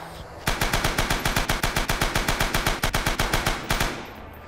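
Machine gun in the game Rising Storm firing one long, steady automatic burst of evenly spaced loud shots lasting about three seconds, then stopping.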